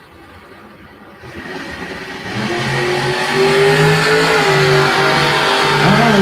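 A wheel-standing Chevrolet S10 launches at a drag strip, the engine rising from a low idle into a loud, sustained revving roar with climbing pitch that stays strong to the end.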